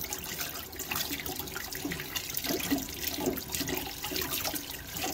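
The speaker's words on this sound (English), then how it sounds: "Rinse all your parts thoroughly." Hot tap water runs and splashes steadily while hummingbird feeder parts are rinsed of vinegar residue in a sink, a continuous close hiss with small knocks of the parts. No voices.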